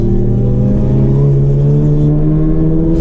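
An MK7 race car in a time attack session at Mid-Ohio pulls hard in third gear onto the main straight, its loud engine drone holding a steady, slowly rising pitch, close and constant.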